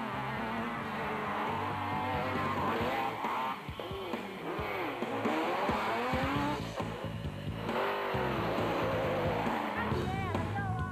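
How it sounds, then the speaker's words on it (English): Race cars roar away from the start at the Lesotho Sun 400 in 2005, with loud, dense engine noise and revving sweeping up and down throughout. "Bevan Bertot led the field away in his eye-burst bat and had the early advantage of a dust-free run"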